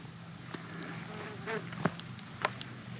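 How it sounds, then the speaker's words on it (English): Flying insects buzzing close by on a wooded hiking trail, faint intermittent whines passing near amid soft background noise and a few light ticks, with no talking. "Every time I stop, the bugs get me too."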